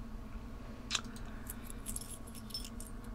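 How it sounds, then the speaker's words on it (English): A set of keys jangles quietly in a hushed ASMR setting, with a brief shake near the start and then a few softer clinks. "These are your jet engine keys."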